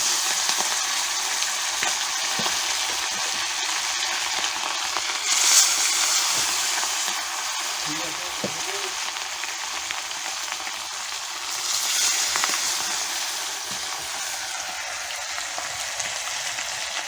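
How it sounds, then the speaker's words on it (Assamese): Fish frying in a pan over a fire for the Bihu festival, a continuous close sizzle of hot oil with a few brief bursts of louder spitting and crackle along the way. "এয়া বিহুৰ মাছ ভাজিবলৈ লৈছোঁ"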